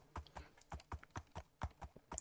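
Donkey hooves clip-clop in an even walking rhythm while riding in the Minecraft modpack TerraFirmaCraft, a series of quiet, close thuds with light clicks and no talk.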